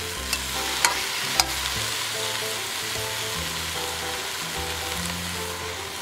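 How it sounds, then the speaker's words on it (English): Pan frying with soy sauce being stirred, a continuous close sizzle with a few sharp scraping clicks from a utensil early on, under a steady backing tone with no talk. "Fry and stir."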